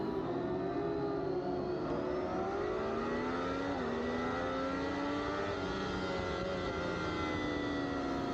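Amateur supersport middleweight motorcycles start a race, engines droning and revving together in a dense, continuous high-pitched roar that rises in pitch as the pack accelerates away, heard at a distance.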